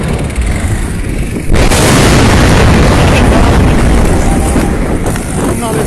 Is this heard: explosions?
yes